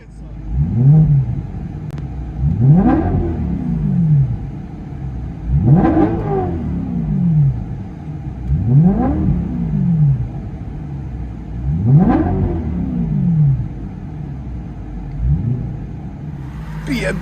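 A 2011 BMW M3 with a 4.0L V8 and Meisterschaft axle-back dual exhaust, heard from inside the cabin, revs in six spaced surges that rise and fall over a low rumbling idle, with speech around the revs.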